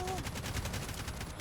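Rapid automatic gunfire from a first-person shooter game, with the mouse stuck so the weapon keeps firing: a steady, evenly spaced burst of shots that runs without a break, fairly faint.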